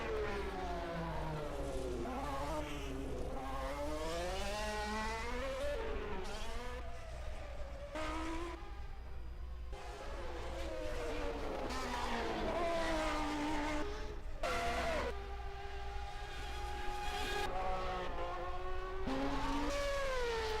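Formula 1 race cars at the 1991 Japanese Grand Prix, their high engines whining and sweeping in pitch as they pass one after another in a continuous loud stream of revving and fading.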